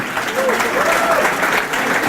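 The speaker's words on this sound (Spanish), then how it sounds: "démosles un fuerte aplauso" Strong applause at a church pastors' gathering, a crowd clapping steadily and fairly close, with a few voices calling out above it.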